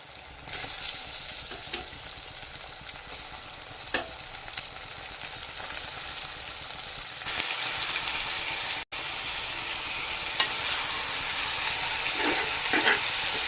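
Onions frying in a hot oil tempering, a steady, close, loud sizzle with faint stirring scrapes that runs the whole time, briefly cut out once, with no talking.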